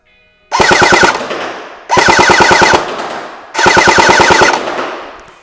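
ACM BAR airsoft Browning Automatic Rifle on full auto fires three loud, close bursts of rapid mechanical cracks, each lasting under a second and separated by short pauses.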